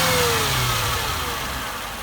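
A Mercedes M113 V8 engine runs close by, revving briefly and then settling toward an idle, with no voices.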